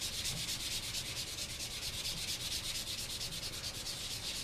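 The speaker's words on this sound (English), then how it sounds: "Now, you just want to light sand in circles." Sandpaper rubs lightly over wood filler in small circles, a steady, soft, rhythmic rasping that repeats in quick even strokes, close up and alone with no talk.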